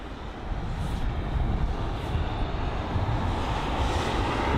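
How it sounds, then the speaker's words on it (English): A British Airways A320 airliner approaches Heathrow, its engine roar building from quiet into a broad, sustained rushing drone that stays loud and steady. "incoming aircraft now, the British Airways A320"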